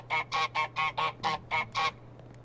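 The goose in Untitled Goose Game honks eight times in quick, evenly spaced succession, loud and close, then falls silent over a faint steady hum.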